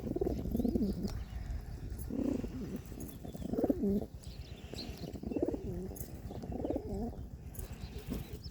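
Pigeons in a loft, a black one among them, coo in repeated low, rolling phrases. The calls come close and fairly soft, with a brief flutter of wings between them.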